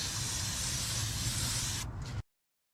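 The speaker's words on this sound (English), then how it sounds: "Go ahead and spray the rims." A continuous hissing spray from an aerosol can of tire foam onto car rims for about two seconds, close up, ending abruptly.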